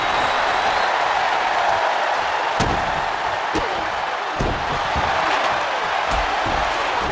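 A steady roar of an arena crowd cheering fills the whole stretch of WWE 2K24 wrestling gameplay, with a few sharp slams and thuds breaking through the dense, unbroken noise.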